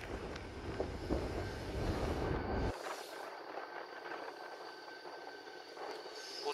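Loud low rumble of a diesel passenger train, Korail Mugunghwa with diesel locomotive 7454, arriving at Hallimjeong station, that suddenly drops away, leaving a quieter steady hum and faint hiss.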